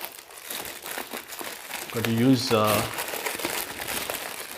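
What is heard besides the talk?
tearing open a shipping package by hand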